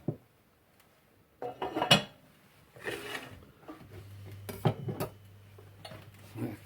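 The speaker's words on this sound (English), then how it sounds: "I swap around the pan because I want the frying pan for the croutons" Metal pans clank and scrape on a stovetop as they are shifted around, a few sharp knocks over a low simmering hum, with a soft voice briefly in the background.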